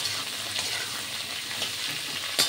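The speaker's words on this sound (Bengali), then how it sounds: "পেঁপে ছাড়বো। এইটা ভাজা হবে" Papaya pieces fry in a pan for Bengali sukto with a loud, continuous close sizzle, a steady hiss of oil broken by a few stirring scrapes, and no talking.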